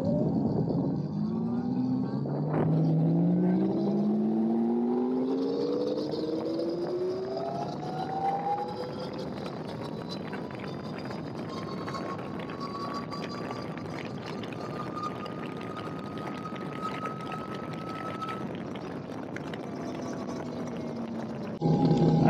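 A DIY 72V electric e-bike with a QS 138 motor, 200A, accelerates hard in mode 2, its motor whine rising steadily in pitch over many seconds before fading, with wind rush underneath and no talk.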